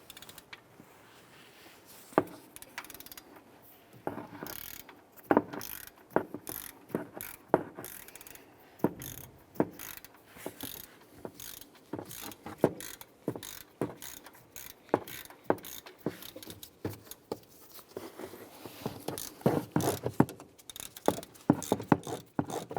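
A socket ratchet loosens a bolt near the idler pulley on a 2011-2018 Ram 1500 engine, giving long runs of rapid clicking strokes with short pauses between them, close and fairly loud.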